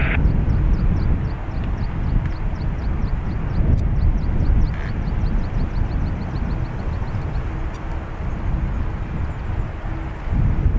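A Ryanair plane departing Dublin Airport produces a continuous loud jet engine roar close by, with a faint rhythmic ticking over it.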